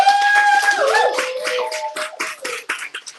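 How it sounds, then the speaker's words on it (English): An audience at a live community event in a coffee shop claps in a brisk, uneven patter, with whoops and cheering voices rising over the clapping throughout. "So clap for yourself."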